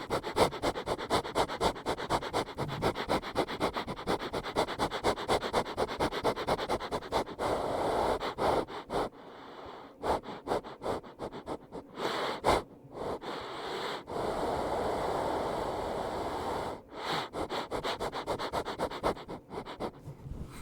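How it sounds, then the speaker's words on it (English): Close, breathy sniffing repeats in quick rhythmic bursts for about twenty seconds, with brief pauses and soft rubbing between runs, intimate and alone. "I will continue after the sniffs."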